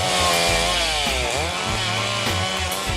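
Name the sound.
chainsaw cutting trees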